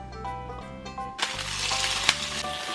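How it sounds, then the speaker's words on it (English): Flounder fries in a pan, a steady loud sizzle that swells suddenly partway through, with a sharp clink, over quiet background music. "the first thing I'm gonna do is I'm gonna cook the flounder"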